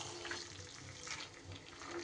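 Spices and Malabar spinach frying in a pan on a gas stove while being stirred, a steady close sizzle with soft scraping of the stirring and no talking.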